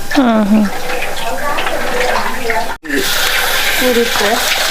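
Jackfruit pieces rinsed under running tap water for a coastal jackfruit sambar, a continuous splashing stream broken by a brief cut, with someone talking over it.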